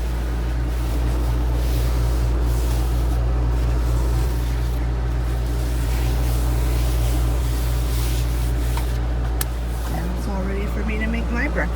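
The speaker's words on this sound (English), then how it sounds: "I've got to spray the area down" A hose sprays water across a dog area outdoors, a steady loud hiss running throughout with a low constant rumble beneath and a faint voice near the end.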